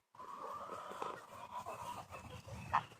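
Backyard chickens, including a big rooster, cluck and murmur steadily at close range, with a sharper squawk near the end and no talk over them.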